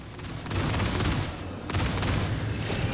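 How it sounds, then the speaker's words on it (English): Ballistic guns fire from an RSI Aurora ES ship in Star Citizen, two sustained rattling bursts of rapid gunfire, loud and dense, with a brief pause between them. "because it is ballistics, I'm trying to be a little bit more conservative with when I fire."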